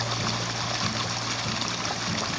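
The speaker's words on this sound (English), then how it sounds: "here's what it sounds like when you come down to the creek" A creek flows in New Zealand's Southland, giving a steady, close rushing and gurgling of water with no pauses and no voices.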